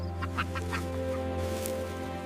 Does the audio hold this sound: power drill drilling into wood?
no